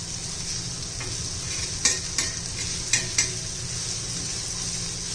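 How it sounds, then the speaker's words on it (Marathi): Okra frying over a low gas flame while a spatula stirs it, giving a steady soft sizzle with four or five sharp metallic scrapes and taps against the pan, close up and without speech. "पहा, मंद गॅसवरच आपण भेंडी शिजवून घेणार आहोत."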